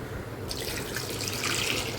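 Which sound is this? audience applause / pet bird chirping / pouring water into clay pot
pouring water into clay pot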